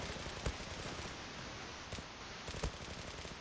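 MPT-76 rifle fired in the online shooter Zula: a few sharp gunshot cracks spaced apart over steady game background noise, fairly faint overall.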